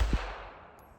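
A single sharp report from a Ruger Mark IV 22/45 pistol fired outdoors at a target about 45 yards away, close and abrupt, with a short fading tail.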